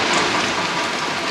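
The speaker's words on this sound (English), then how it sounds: "It's raining" Steady rain pours down in a dense, close hiss of drops falling on surfaces, with no voices.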